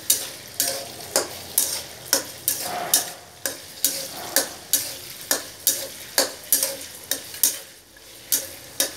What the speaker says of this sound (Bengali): এই বিন্সটাকে কিছুক্ষণ ভাজিয়ে দেবেন